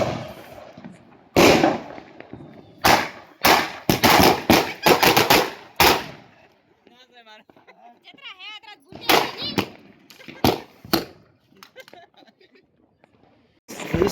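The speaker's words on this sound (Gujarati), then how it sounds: "વીસ તડાકા વાળું હોય જોઈએ આપણે 20 તડાકા થાય કે નહીં" A twenty-shot firecracker string bursting in loud, sharp cracks, first a rapid cluster, then a pause filled by faint children's voices and whistles, then another run of bangs.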